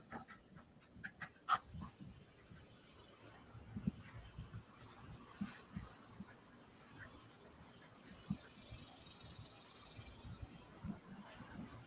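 A very hyper dog pants in rapid, uneven bursts nearby, with occasional sharper snorts and thumps over a quiet background hiss.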